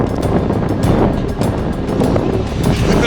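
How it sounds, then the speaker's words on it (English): Strong gusty wind buffets the microphone on a mountain trail near Mount Everest, a loud, continuous roar rising and falling with no clear speech. "this wind is no joke"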